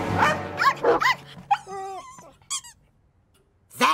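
Several cartoon dogs in an animated Mr Bean episode yelp, squeak and whimper in quick bursts, a cluster of overlapping cries first, then high squeaky whines and a final yip, loud and close with pauses between.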